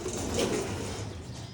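Soft, low pigeon coos murmur close by, a brief throaty burble over a faint background hum, with no talking.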